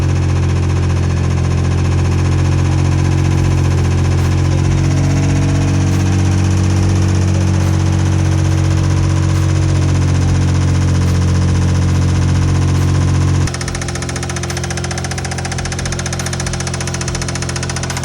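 Toyota Supra MK4 with a 2JZ engine, 100,000 miles and a knocking fault, idling loudly up close with a steady low drone and rhythmic knock, then dropping to a lower, quieter idle near the end.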